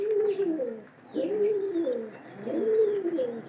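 A male pigeon coos in repeated rolling, throaty phrases in a loft. The calls come close and clear in three bursts with short gaps between them.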